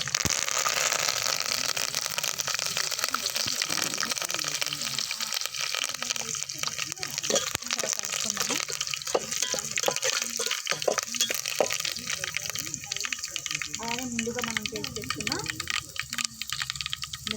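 Tomato rasam poured into a hot pan of tempered mustard seeds, dried chillies, garlic and curry leaves gives a continuous liquid splashing and bubbling hiss. A voice talks over it throughout.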